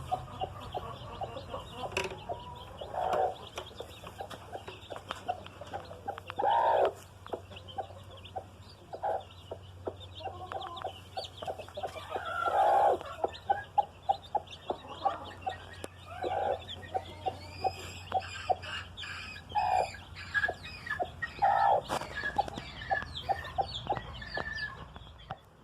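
Chickens in a rural yard cluck repeatedly in short, irregular bursts, close and fairly loud, with some overlapping calls over a faint low background hum.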